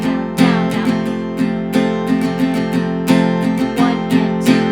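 Acoustic guitar strummed at full tempo in a steady run of down-strokes for a song, each chord attack ringing out clearly and loudly with no voice over it.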